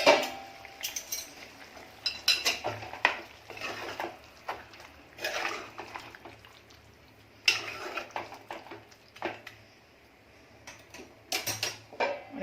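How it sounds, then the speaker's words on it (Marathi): A metal spoon clinks and scrapes against a cooking pot as mutton is stirred for a Pen, Raigad style black mutton, with irregular close taps and rattles spread across the stretch. "आणि जरा ढवळून घ्यायचं आहे"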